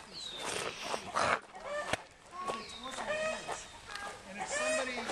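Rooster and chickens at a historic village farm cluck and call repeatedly at close range, with people talking nearby between the bird sounds.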